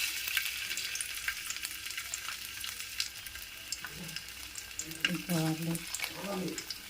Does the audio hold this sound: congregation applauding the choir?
no